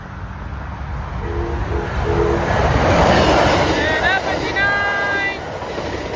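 Southbound Amtrak passenger train led by unit 90278 rumbles past loudly and close, with two short horn blasts early and a longer horn sounding near the end over the steady roar of wheels.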